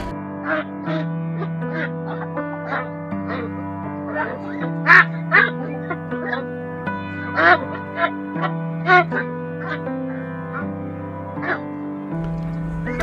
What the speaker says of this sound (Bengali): পুরো গাড়িটা আমরা লোড করে দিচ্ছি আজকে আমাদের খামারের হাঁস দিয়ে।